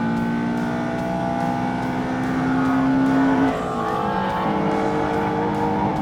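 A Ford Fiesta races on a track against other cars, with engine roars sustained and droning loudly as the cars pull away, the pitch climbing and then shifting as gears change.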